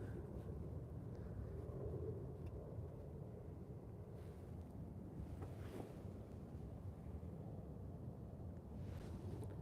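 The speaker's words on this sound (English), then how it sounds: "Wind's picking up." Steady wind rushing over an outdoor microphone at an airport plane-spotting spot, a continuous low buffeting roar that stays loud throughout with no talk.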